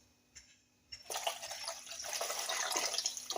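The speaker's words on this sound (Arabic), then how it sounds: "ودابا غنجيب الماء نزيدو على الدجاج ونزيدو عليه الماء باش يطيب لينا الدجاج" Water is poured into a pot of chicken in a home kitchen, a soft splashing stream that starts after a faint drip and continues steadily, close and quiet, with no voices.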